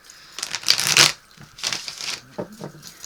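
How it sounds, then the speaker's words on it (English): Tarot cards being shuffled by hand, heard as several close, crisp bursts of riffling and flicking separated by short pauses, fairly quiet and with no speech. "Finish shuffling your cards"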